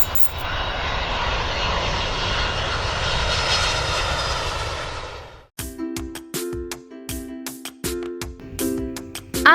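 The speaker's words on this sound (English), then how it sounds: "A is for aeroplane." An aeroplane engine roars loudly and steadily for about five seconds, then cuts off abruptly before a series of bright, clipped musical tones.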